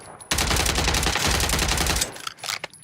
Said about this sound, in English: I'm just shooting chest shots, not aiming headshots